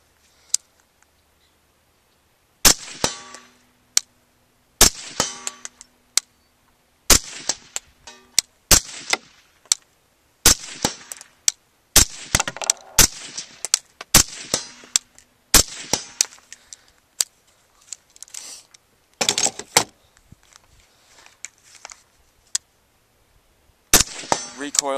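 Rapid gunfire from a pair of BCM 11.5-inch short-barreled rifles, one fitted with a Knights Armament part and one with a normal gas port: many sharp, loud shots, sometimes in quick strings and sometimes spaced apart, with faint voices in the gaps.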